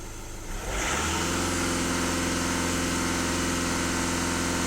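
A VW Golf 1.6 TDI diesel rises from a low idle to a loud, steady high-rev roar. The raised revs are held nearby with no pause.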